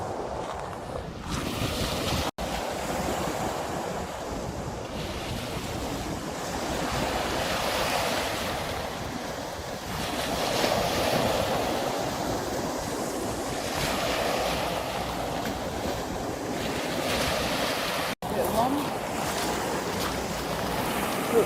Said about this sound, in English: What waves are coming in.